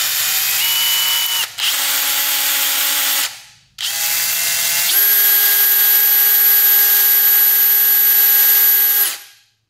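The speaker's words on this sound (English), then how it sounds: "We're just gonna sand that down, see how rusty that is." A power tool sands rust off the coil post of a dirt bike, its high motor whine starting and stopping in short bursts before a longer, steady run that winds down.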